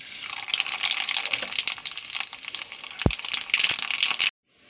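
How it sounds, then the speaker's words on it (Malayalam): Mustard seeds dropped into hot oil in a pan while tempering sambar, crackling and spluttering loudly and steadily for several seconds before cutting off abruptly. "കടുകിടുന്നു"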